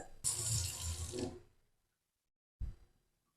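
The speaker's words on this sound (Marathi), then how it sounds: "पोटॅटोची साल काढून घेऊयात पोटॅटोला स्वच्छ धुवून घ्यायचं" A peeled raw potato is rinsed clean under a running kitchen tap, a close splashing gush lasting about a second, then silence before a short second burst of water.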